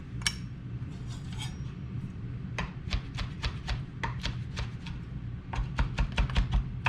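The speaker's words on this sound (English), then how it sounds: "And this is the last thing we're gonna cut. Let's do about 3 chipotle peppers." A knife chops chipotle peppers on a board in a home kitchen, a few scattered taps followed by a quick, steady run of crisp close cuts, then another burst of rapid chopping.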